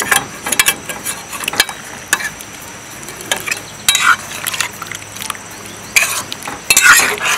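Chicken curry with potatoes being stirred in a pot, the spoon scraping and knocking in short irregular bursts over a low sizzling simmer, close and fairly loud with no talk.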